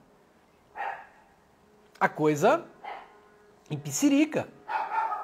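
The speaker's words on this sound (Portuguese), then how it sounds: "Olha o meu cachorro latindo lá." A dog barks a few times at a distance, sharp yelps standing out over a person talking nearby.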